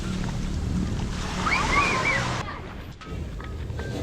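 Ocean waves on a beach in West Sumatra, a continuous roaring wash of surf with wind buffeting the microphone, loud and steady, easing off slightly toward the end; no speech.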